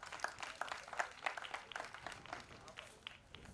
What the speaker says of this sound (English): So I kindly invite you all to just give a round of applause to the Culture Society that has brought this together.